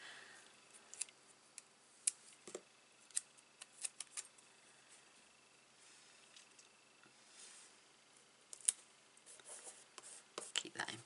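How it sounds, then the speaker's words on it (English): Faint, close snips of small scissors fussy cutting around a paper card piece, irregular clusters of crisp little cuts with quiet pauses between, no talk. "I'm just going to give it a little fussy cut"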